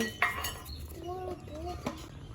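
A metal spoon scraping and clinking in a pot while prawns are mixed with chilli powder, salt and turmeric for Jaffna-style village cooking, a few light clinks and soft stirring sounds over quiet background, with someone speaking Tamil.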